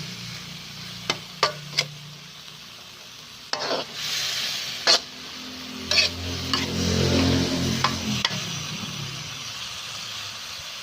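Vegetables are stirred and stir-fried in a pan with pork cracklings for a Thai yam dish, soft sizzling under sharp scraping and clinking strokes of the utensil against the pan, irregular and close.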